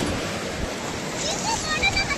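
Sea waves washing in at Puri beach, a steady broadband surf wash with wind noise on the microphone, close and continuous, with a voice talking faintly over it.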